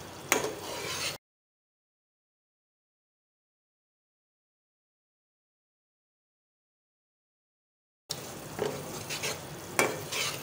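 Semolina roasting in ghee for halwa is stirred in a pan, producing scraping, light sizzling strokes in two short bursts separated by a long silent gap.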